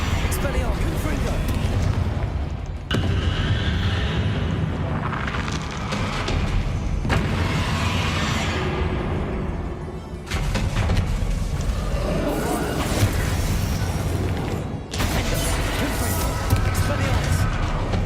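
Spell explosions in Hogwarts Legacy, a game, come as loud, repeated booming blasts and crashes in bursts through the clip, with casting voices shouting over the combat noise.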